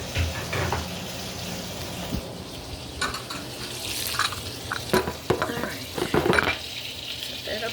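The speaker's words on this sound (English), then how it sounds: "I hear the butter going" Butter sizzling in a frying pan on the stove, a soft steady crackle beneath clinks of utensils and pans, with faint talk in the background.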